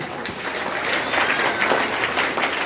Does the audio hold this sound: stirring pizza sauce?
no